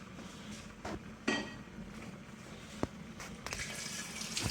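Water poured from a vessel into raw tapioca pieces in a cooking pot for tapioca biryani with beef; a quiet, steady gush with a few faint clinks of utensils, no talking.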